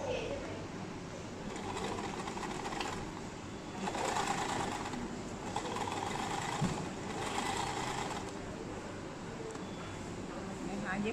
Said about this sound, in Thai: เย็บกลับเข้าไปอีกครั้งหนึ่งนะคะ เย็บจนตลอดแนวเลยนะคะ